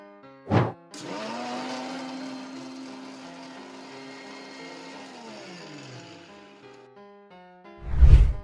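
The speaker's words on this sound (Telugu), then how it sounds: "మిక్సీ పెట్టుకోవాలి." A mixer grinder blends banana milkshake with sugar and ice cubes, starting with a sharp clunk and then whirring steadily for about four seconds before winding down. A loud thump follows at the end.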